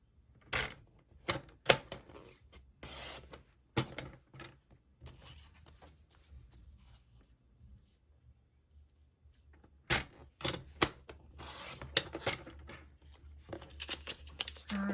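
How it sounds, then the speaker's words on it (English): A paper trimmer slices card paper in a series of sharp clicks and swipes, with bursts at the start and again near the end around a quiet stretch, close up and without speech. "grab your paper trimmer and slice off in between all those 3 points"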